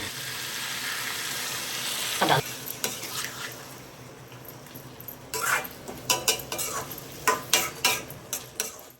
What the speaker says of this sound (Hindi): फिर ये उबली हुई सब्जियाँ डाल दी हैं।